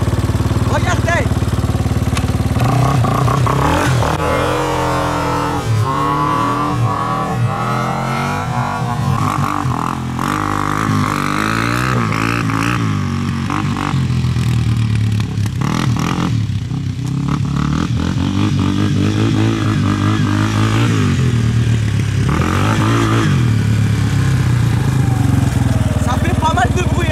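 A quad bike engine starts and then rides across a field, its revving motor rising and falling loudly throughout while someone talks over it almost continuously.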